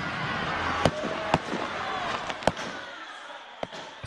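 Firecrackers crack sharply a handful of times at a rugby sevens final between Police White and Tabadamu, loud isolated bangs spaced irregularly over a busy crowd and commentary backdrop.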